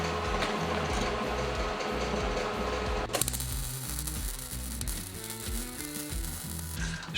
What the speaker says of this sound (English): Let's get this welded